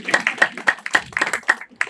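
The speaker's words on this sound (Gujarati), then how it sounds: "નારી શક્તિ માટે જેન્ટ્સ બધા તાળી પાડી દે એકવાર" Men in the audience at a healthy heart and women's wellness awareness session give a short burst of fairly close clapping, a couple of seconds of quick, uneven hand claps.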